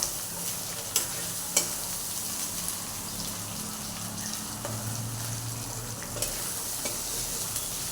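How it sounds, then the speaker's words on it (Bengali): Chopped tomatoes sauté in a hot pan with a steady, close sizzle, broken by a few sharp scrapes and knocks of a spatula being stirred through. "এবারে টমেটোগুলোকেও আমি একটু কষিয়ে নেব।"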